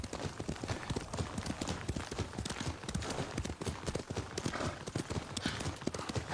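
Rapid horse hooves clip-clopping steadily on a hard surface in a video game, fairly close and continuous, with a busy, bright background.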